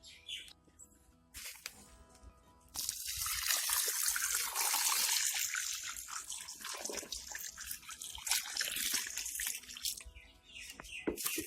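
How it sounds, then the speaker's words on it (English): Water pours from a tap or hose onto soil being prepared for planting a lotus tuber, starting as a faint trickle and swelling into a steady, loud splashing gush that continues throughout. "the soil is drenched with water initially"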